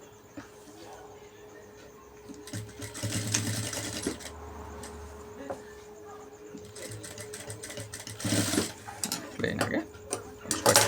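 A sewing machine stitches an embroidered blouse, its motor running in steady bursts with short pauses between runs, fairly close and moderately loud.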